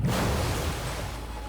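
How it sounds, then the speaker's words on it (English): A steady rush of flowing liquid in the video game Nikke, loud at first and slowly easing off, with no voices. "Sound of flowing liquid."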